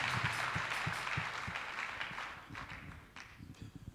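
Audience at a prayer service applauding, a dense bed of clapping that swells and then thins out over a few seconds, heard from within the congregation.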